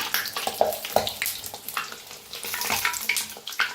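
Banana and jaggery puris frying in hot oil crackle and bubble loudly and closely, with irregular bursts of spitting sizzle that rise and fall over a few seconds.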